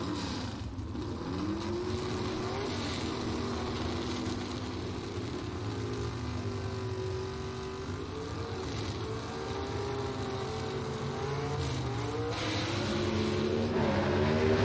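Drag race cars run at Mt. Olive Dragway, their engines droning steadily at a distance and swelling louder toward the end, with no talk.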